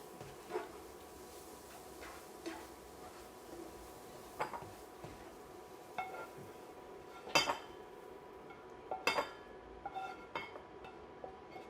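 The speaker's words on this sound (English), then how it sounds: "put these Brussels sprouts into a little bowl" Cooked Brussels sprouts are spooned from a pan into a small bowl, with scattered metallic clinks and clatters of utensils on dishes, several in quick bursts, close and crisp over a quiet kitchen background.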